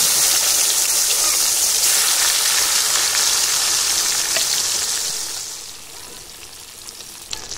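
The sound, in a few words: bata fish frying in mustard oil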